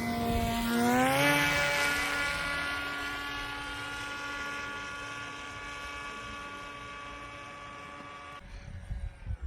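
A scratch-built Sky Hunter helicopter drone hums with a steady, high-pitched rotor and motor whine that holds level for several seconds before cutting off abruptly near the end, followed by faint handling noises.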